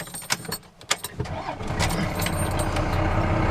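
An old high-mileage truck engine cranks briefly with clicks and rattles, then fires and settles into a loud, steady running rumble close by.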